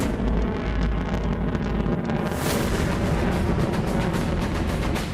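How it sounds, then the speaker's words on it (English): Minuteman III intercontinental ballistic missile's first stage igniting at launch off the coast of California, a loud, continuous broadband roar with deep rumble that swells and holds steady throughout. "The intercontinental ballistic missile, Minuteman III, tested off the coast of California"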